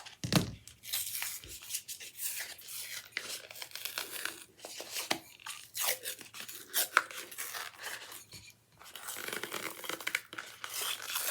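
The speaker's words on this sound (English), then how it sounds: "the plaster of Paris is dry now, and we're going to now cut the cup away." Scissors or a blade cut and tear a cup away from dried plaster of Paris, making close, loud crinkling and ripping sounds in irregular bursts with brief pauses throughout.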